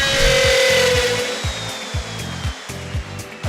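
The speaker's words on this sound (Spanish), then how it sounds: "es importante no sacar el router hasta que no haya dejado de girar la broca" A router bit cuts into a template during a KOBER high-tech deck installation, a steady loud whine with a high tone gliding down and repeated rhythmic thumps running underneath.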